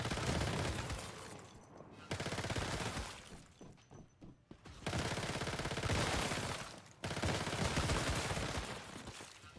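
Rapid automatic gunfire from the video game Once Human rattles in long continuous bursts with short pauses between them, dense and sharp but fairly quiet in level.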